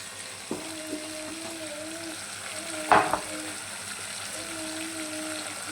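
Cashew paste and turmeric sizzle and fry steadily in a pan, a close continuous crackle with a brief stirring clatter midway, while someone talks over it.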